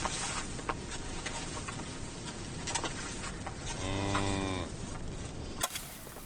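A cow in labor lets out a drawn-out, resonant moo in the middle, standing clearly above a steady outdoor background with faint buzzing insects.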